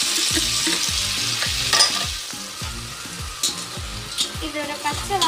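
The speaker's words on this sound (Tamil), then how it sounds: "இதோட கொத்தமல்லி தூளோட பச்சை வாசம் நல்லா போகிற வரைக்கும் நல்லா கிண்டிட்டு" Turmeric and coriander powder fry in a pan for vegetable kulambu while a spoon stirs them in quick repeated scrapes over a constant close sizzle, no talk.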